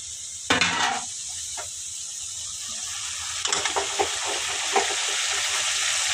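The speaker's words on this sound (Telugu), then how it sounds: "అల్లం వెల్లుల్లి పేస్ట్ వేసేస్తా." Ginger garlic paste drops into a hot pan of cooked chicken for gongura chicken, setting off a loud sizzle near the start, then a second burst of frying with a few clinks against a steady hiss.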